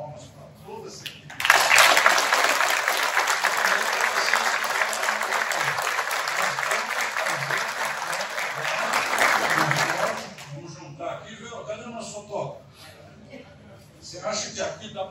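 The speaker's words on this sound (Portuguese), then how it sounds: "peço a vocês que uma salva de palmas para toda essa equipe." An audience at a roundtable event applauds in a loud, dense burst of clapping lasting about eight seconds, then it fades and speech continues.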